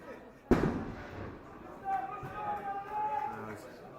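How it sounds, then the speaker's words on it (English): Fireworks and explosions go off at a Stocksbridge Park Steels vs Rushall Olympic non-league football match, starting with one sharp bang followed by distant crackling and rumbling under a commentator's voice. "As this game starts to a cacophony of fireworks and explosions"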